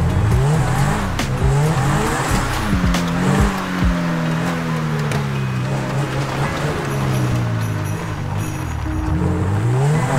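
Grotti Cheetah supercar in GTA 5, fitted with Menyoo mods, revving hard and accelerating, its engine note climbing and shifting through gears, with tyres squealing, loud and close throughout.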